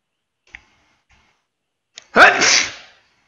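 A single sharp, close sneeze bursts out after a few quiet mouse clicks in an otherwise silent room, the sneeze loud and breathy, trailing off over about a second.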